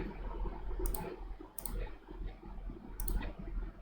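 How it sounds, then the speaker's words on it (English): Computer mouse right-clicks while working in ETABS structural design software on a roof truss model, three short crisp clicks spaced about a second apart over a quiet room hum. "Right click."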